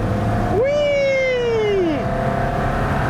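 An Aston Martin V12 Vantage S engine gives one loud, sharp rev that climbs and then slowly falls away over about a second and a half, over a steady background hum.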